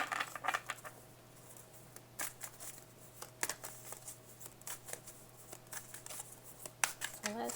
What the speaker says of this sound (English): I'll shuffle them a few times on camera